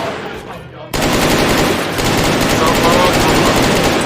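Rapid automatic gunfire in the first-person shooter game Infrared, loud and sustained after a brief quieter lead-in, with a continuous dense burst of shots filling most of the clip.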